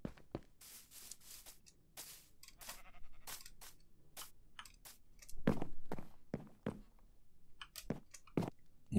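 Sheep bleating in Minecraft, the last sheep left in a wolf farm, heard as short scattered bleats and clicky game sounds spread across a quiet background, with no talk.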